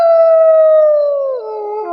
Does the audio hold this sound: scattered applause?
no